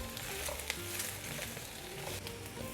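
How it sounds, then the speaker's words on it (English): Jalapeños, cauliflower and whole garlic cloves sizzle steadily in a hot pan, a continuous close crackle with light scraping stirs scattered through it. "After the 5 minutes, add the jalapeños and cauliflower."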